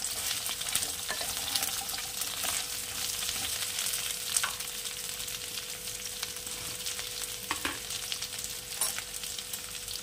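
Chicken drumsticks fry steadily in a pan, a continuous close sizzle with occasional scrapes and knocks as they are stirred for a Bengali drumstick-vegetable posto dish.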